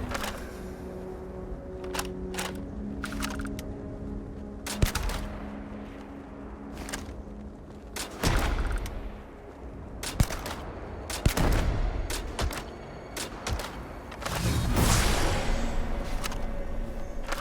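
Gunfire in the space game Starfield, sharp sudden shots fired in irregular bursts and single cracks over a low ambient hum, loud and close, with no voices.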